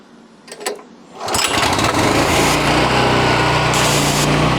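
A few clicks and a short rattle come before a pressure washer starts up and runs loud and steady with a high, hissing engine whine, with its pressure turned up.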